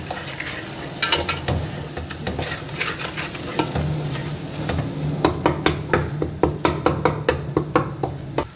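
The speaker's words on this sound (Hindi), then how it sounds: "नमक को डाल के मिक्स कर लेंगे अच्छी तरह से।" A spoon stirs salt into sizzling fried masala in a pan, with steady frying hiss and repeated scraping knocks of the spoon against the metal, growing more rhythmic toward the end.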